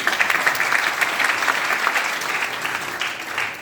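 An audience breaks into dense, steady applause that holds at an even level from start to finish, with no voices rising above it.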